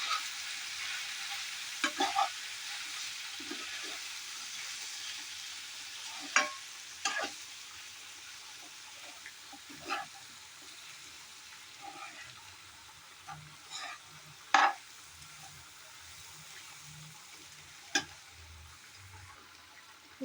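Sweet pumpkin palya with grated coconut and coriander is stirred in a pan. A faint, steady sizzle runs throughout, broken by scattered scrapes and clinks of a spoon, with occasional soft low sounds.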